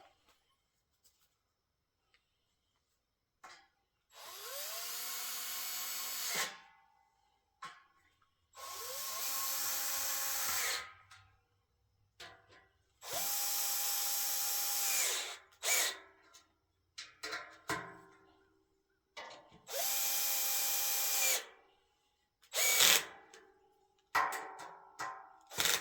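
Power drill driving screws into a garden bench during assembly, in four separate bursts of several seconds each with short pauses between, close and fairly loud, followed by a few brief clicks and ticks.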